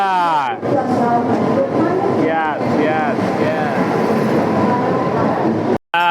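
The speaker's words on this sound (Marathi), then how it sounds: "आणि ही ट्रेन आली आमची." A train rumbles in with steady rail noise and a rising whine, while excited voices chatter and shout over it throughout.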